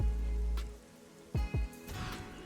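Steady rain ambience on a rainy board in the MTG Arena video game, a soft wash of falling rain under brief swooping and chiming game effects, with no talk.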